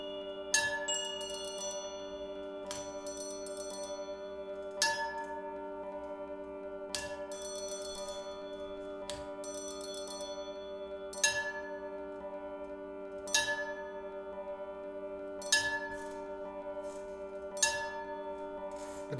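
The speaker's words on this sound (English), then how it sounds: "But the bell sound does sound good." A bell struck by solenoids in an experimental setup rings out in sharp, bright strikes every couple of seconds at an uneven pace, each hit leaving a sustained metallic hum that carries beneath the next.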